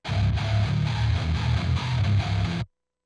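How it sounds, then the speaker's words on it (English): A short electric guitar phrase pitch-shifted linearly from zero up to four semitones, pitch sliding steadily upward, loud and close, ending abruptly after a few seconds. "I actually did like a linear pitch up where it goes from zero semitones"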